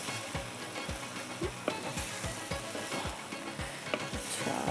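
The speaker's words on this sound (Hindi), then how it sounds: "इसको हम यहाँ पर एक दफ़ा मिक्स करके रखते हैं" Vegetable handi sizzles steadily in a pan while it is stirred, with soft repeated scraping strokes over a constant close frying hiss and no voices.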